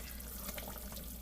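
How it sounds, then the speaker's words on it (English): Meatballs cooking for spaghetti bubble in a pot of water at a rapid boil, giving a steady, close hiss of rolling water with faint gurgles and no voices. "my meatballs have been cooking on a rapid boil"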